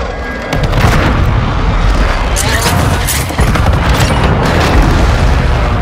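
A loud airstrike in a video game erupts into sustained, rumbling explosions and crackling blasts that fill the whole stretch with a dense wall of booming noise.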